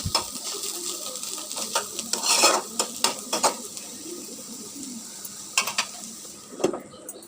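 Bitter gourd fries slowly in a pan under a steady sizzle, broken by irregular scrapes and taps of a spatula stirring it. The sounds are close and there is no talk.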